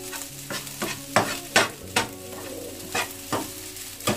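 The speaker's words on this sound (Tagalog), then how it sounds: "Habang minahalo natin eh, halo-haloin lang po natin eh, na maigay." Cup noodle fried rice is stirred in a pan, a spatula scraping in repeated strokes over a soft sizzle of frying, loud and close with no talk.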